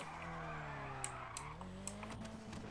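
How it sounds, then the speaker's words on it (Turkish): A car engine in the video game GTA V revs and shifts, its pitch sliding through gear changes, with sharp tyre-squeal bursts over a continuous loud motor drone. "Mükemmel bir sesi var bu arabanın ya."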